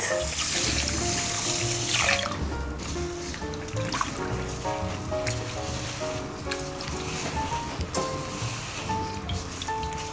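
Rice being rinsed in a kitchen sink while preparing a prawn Thai green curry, with steady running tap water and sloshing over a continuous watery wash, loud and close throughout with no talking.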